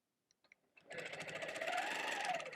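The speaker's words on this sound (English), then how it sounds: "Travel the ditch. I could drag, or I could just lock stitches" A sewing machine stitches quilting lines across a quilt, starting with a few faint clicks before the motor spins up into a steady, close, continuous whirring hum that holds to the end.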